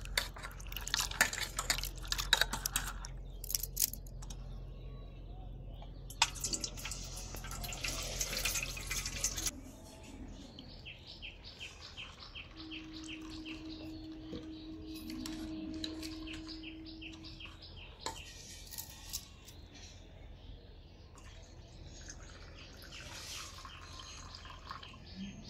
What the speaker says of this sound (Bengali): এই সাবুটাকে আমি 2 থেকে 3 বার ভালো করে ধুয়ে পরিষ্কার করে নেব।